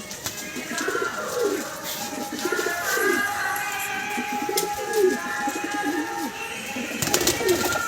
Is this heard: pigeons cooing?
yes